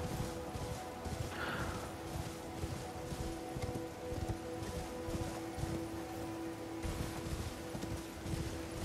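A horse gallops through Elden Ring, its hooves making a steady, rhythmic, muffled beat at moderate volume over a continuous low game ambience and a held tone.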